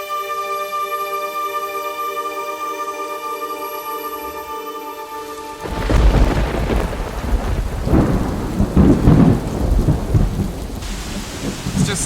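Heavy rain pours down with thunder in a jungle temple setting; a tonal insect-like drone gives way midway to a loud rumbling crash and steady dense rain hiss that continues to the end.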